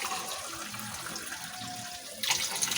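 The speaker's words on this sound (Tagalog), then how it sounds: "Ayan, lagyan natin siya ng tubig." Water runs from a tap as it is poured into a cooking pot, a soft steady stream close by that swells louder near the end.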